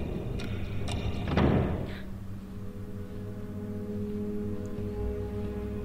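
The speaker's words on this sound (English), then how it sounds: "That did sound like a door slammed." A door slams in a video game, one heavy thud with a short rattle, followed by a steady low hum of room ambience.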